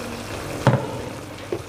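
Green chili pindang stew with fried fish and tomato is stirred in a pan, giving two short, close scraping swishes over a soft simmering sizzle.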